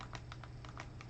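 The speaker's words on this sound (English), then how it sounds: "we're going to type in a shortcut" A short burst of keystrokes as a numeric shortcut code is typed on a device, about eight quick, light taps in an uneven rhythm, close and quiet over low background hum.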